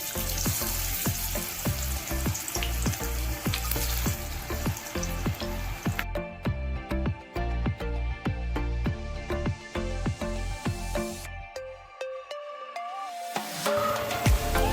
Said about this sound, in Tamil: இப்போ எண்ணெய் நல்லா சூடானதும் நம்ம ரெடி பண்ணி வச்சிருக்க முட்டைக்கோஸை நம்ம எண்ணெயில சேர்த்துக்கலாம்.